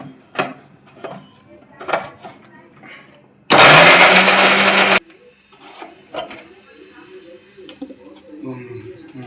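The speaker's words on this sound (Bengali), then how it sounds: "একটু জল দিয়ে এটা মিক্সিটা ঘুরিয়ে নেব।" Mixer grinder whirring through ginger, garlic, chili and cumin with water in one loud burst of about a second and a half, with pigeons cooing before and after.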